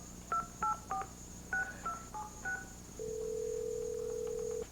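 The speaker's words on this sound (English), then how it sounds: "Here, I'll show you how to use the phone." A telephone keypad being dialed, heard as a quick run of short DTMF beeps in irregular bursts, then a steady held tone, fairly quiet over faint room hiss.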